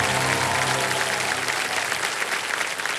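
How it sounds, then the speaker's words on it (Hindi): The studio audience of the Hindi quiz show Kaun Banega Crorepati Season 17 applauds a contestant, a loud, even wash of clapping that continues steadily throughout. "तालियां बज जाए मानसी जी के लिए।"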